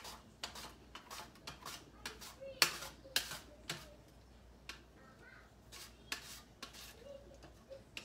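A mandoline slicing sweet pepper with a 3.5 millimeter blade, a series of quick, sharp scraping strokes in an irregular rhythm in a quiet kitchen.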